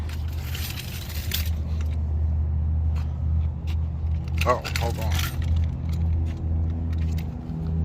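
A ring of keys jangles in two bursts, briefly near the start and again mid-clip, over a steady low rumble from a car or idling vehicle, with a person talking nearby.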